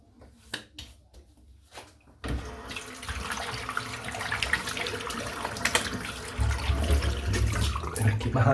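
Water runs steadily from a tap as hands are wetted during a wet shave, starting abruptly after a quiet moment and continuing as a loud, close, even splashing rush.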